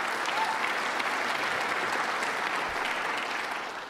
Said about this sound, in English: let's give Queens College a round of applause